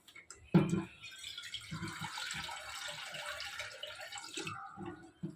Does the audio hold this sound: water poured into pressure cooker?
yes